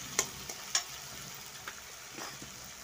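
Ground spices such as turmeric and chili powder frying in a pan with softened tomato and onion for a vetki fish bone curry, a faint steady sizzle with a few sharp clicks of stirring, no talk.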